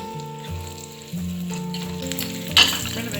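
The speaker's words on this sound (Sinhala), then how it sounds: "මේ බිත්තර ටික මේ තෙල් වලට දාගෙන ලාරන්නම් පාට අපේ වෙනකම් පොඩ්ඩක් ෆ්‍රයි කරගන්න ඕනේ" Eggs fry in hot oil for a Sri Lankan spicy egg curry, a bright steady sizzle with a sharper burst near the end, under a backdrop of music.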